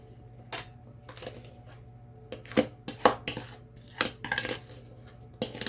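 A baking pan for banana bread is handled with scattered clinks and knocks of metal, irregular and fairly close, over a faint steady hum.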